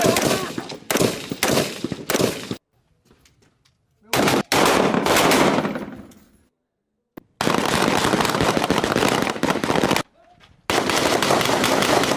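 Israeli soldiers in combat training fire automatic weapons in loud, close bursts of rapid gunfire. Several short silent gaps separate the bursts.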